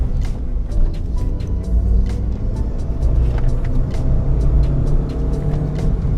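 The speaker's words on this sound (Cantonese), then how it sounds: "佢1、2波咧，俾油嗰下咧，部車已經爆到上去噶啦" A Mitsubishi Colt Ralliart Version R accelerates hard through first and second gear. Its engine drone is loud and close and stays steady throughout, with scattered clicks above it.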